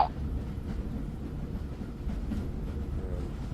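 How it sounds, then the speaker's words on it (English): A train running on rails, a steady low rumble with faint rhythmic clatter, continuous and moderately loud with no talk. "how do you stop the train?"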